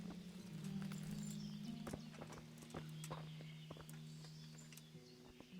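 Steady clip-clop of horse hooves at a walking pace in the video game Kingdom Come: Deliverance, close and rhythmic, over a low droning hum.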